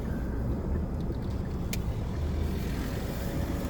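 A car drives along a road, its engine and tyre rumble held steady and close throughout, with no talking.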